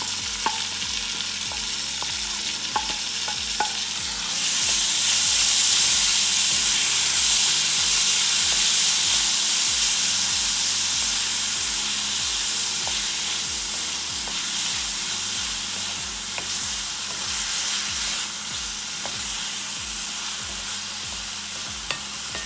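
Finely chopped onions and tomatoes fry together in a pan for a split pea toor dal, a continuous loud sizzle and hiss with occasional scrapes of stirring, swelling in steam partway through, no talk.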